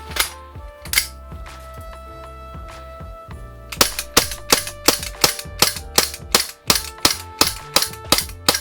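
A Umarex SRC Glock 17 Gen5 CO2 airsoft pistol fires a few spaced sharp cracks, then a fast, steady string of loud, close shots with clacking action noise.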